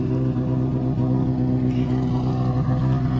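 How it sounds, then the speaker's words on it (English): Engine of a Volkswagen Polo rally car at a rally stage of the Rally di Roma Capitale 2019, a steady loud rumbling idle or low rev drone running continuously throughout, close by, with no voices. "The Polo really noisy"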